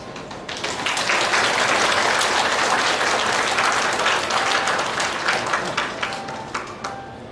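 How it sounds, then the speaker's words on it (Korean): Wedding guests clap together during a ceremony, the applause swelling quickly to a full, steady roar and holding before gently tapering off. "힘찬 박수로 두 사람을 축복하여 주시기 바랍니다."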